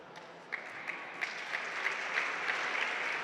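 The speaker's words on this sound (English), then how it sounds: "Gets a nice round of applause." Crowd applause in a gym during a college women's basketball game, steady clapping with several sharper claps rising through it, moderately distant.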